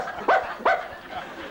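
A man imitates a dog with two quick, loud barks, close up, and then a faint trailing whine.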